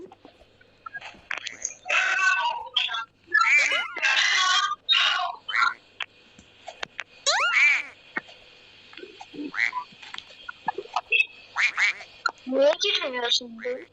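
Duck quacking in a Roblox obby game, repeated bright quacks recurring through the clip, mixed with lively voices talking over the game sounds.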